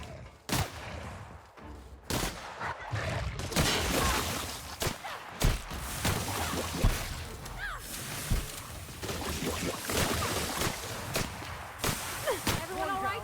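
Repeated video game gunfire while shooting at enemies, sharp bursts and single shots spread throughout, loud and dense with game effects, with speech mixed in.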